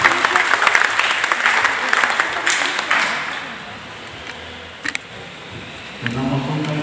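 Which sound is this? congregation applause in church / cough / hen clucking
congregation applause in church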